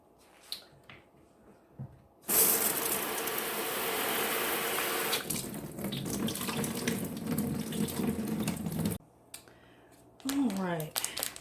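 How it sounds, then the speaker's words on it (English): Tap water runs loudly into a container for about seven seconds, then shuts off. Light handling clicks come before and after the flow. "I'm going to fill it with some water."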